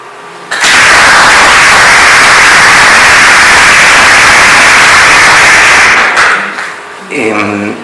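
A burst of loud applause from a large crowd, sustained for several seconds before fading, followed by a voice beginning to speak.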